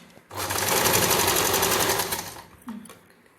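A sewing machine stitches a folded-in edge of fabric in one continuous close, loud run of rapid needle strokes lasting about two seconds, then stops, followed by a brief handling knock.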